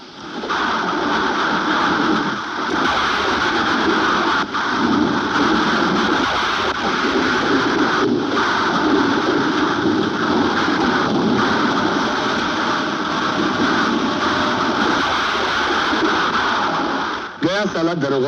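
Heavy rain pours steadily through a stormy night with low rumbling thunder, a dense constant roar that barely lets up for the whole stretch, in a Hindi action film scene; a brief swooping sound breaks in near the end.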